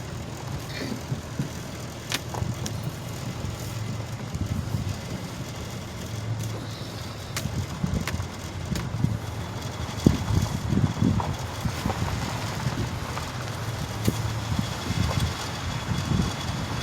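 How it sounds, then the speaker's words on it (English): Wind blows steadily outdoors under a wide sky at a cemetery in Dallas, Texas, a continuous low rumbling rush with gusty swells, moderately loud and unbroken. "It's a little windy, but it's beautiful."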